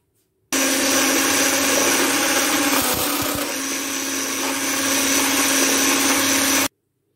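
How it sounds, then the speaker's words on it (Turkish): Eggs and granulated sugar being beaten with an electric mixer for a strawberry tart cake, a steady loud motor whir that runs about six seconds with no talking. "Yumurtam ve toz şekerimi güzelce çırpacağım."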